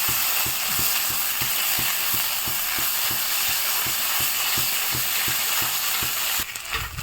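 Mashed yardlong beans, Bangladeshi borboti vorta, fry in a pan while a spoon scrapes and stirs in a steady rhythm of close, regular strokes over a constant background hiss.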